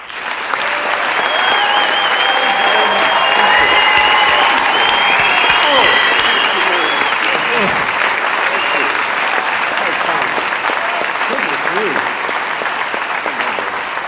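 Loud, sustained applause from a large conference audience welcoming Stephen Fry onto the stage at IAB Engage 2009, a dense wash of clapping that swells quickly and holds steady for many seconds.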